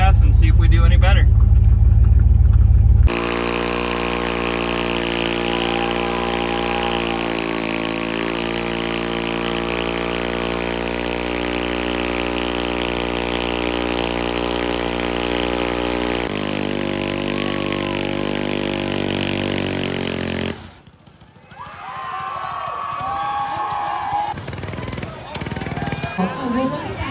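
A pickup truck's engine roars in a sustained, loud rev for a small-town Minnesota burnout competition's open class, holding a strong steady drone before cutting off abruptly, followed by quieter crowd and outdoor noise.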